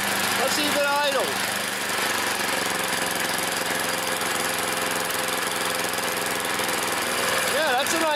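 A small engine idles steadily after its choke is turned off, a loud, continuous rattling drone close by that holds even throughout, with brief squeaky sounds near the start and end.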